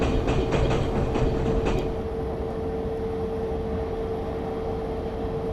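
An ICE 2 train running in Train Simulator 2017 on the Berlin to Leipzig route: a steady rumble with a constant whine, and quick rhythmic clicks over the rails in the first two seconds.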